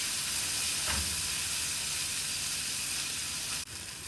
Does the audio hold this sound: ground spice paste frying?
yes